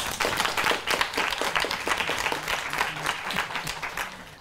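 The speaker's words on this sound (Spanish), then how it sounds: "les pido un aplauso de bienvenida" A seminar audience claps in welcome for a speaker at a talk on gender violence, a dense, steady round of many hands lasting several seconds at moderate loudness with no voices over it.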